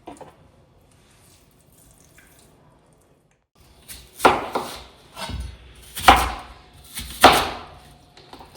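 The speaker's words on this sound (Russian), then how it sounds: "Режем наше мясо." A knife chops meat for Armenian lahmajoun, with four or five sharp, close cutting strikes at an uneven pace after a few quiet seconds of faint kitchen background.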